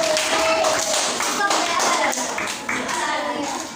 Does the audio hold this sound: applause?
yes